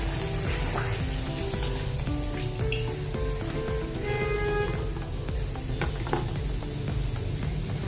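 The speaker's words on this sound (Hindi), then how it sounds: "अभी हम साबूदाने के पापड़ तलेंगे इसी तेल में।" Fasting papad, made from sabudana or bhagar, frying in a pan of hot oil with a steady, continuous sizzle and bubbling that lasts throughout, with faint tonal sounds in the background.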